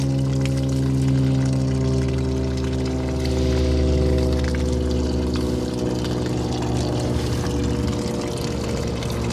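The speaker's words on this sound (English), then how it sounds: "here we're just draining the water out of the camper so it doesn't freeze and break any pipes" Steady rushing and humming as water drains out of a camper's plumbing system, a continuous pump-like drone with flowing water, loud and close, without pauses and with no talk.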